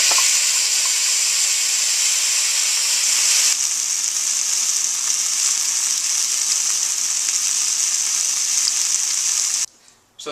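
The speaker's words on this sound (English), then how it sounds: "what I did was I grilled those here in the house instead of out on the grill" Marinated lamb kebabs on skewers sizzle steadily on a lidded indoor grill, a loud, even hiss that carries on alone and cuts off at the end.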